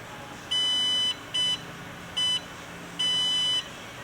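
A Promatic receiver sounds its boot-up beep code at power-on: four clear electronic tones in a long, short, short, long pattern, loud and steady against a faint background hiss.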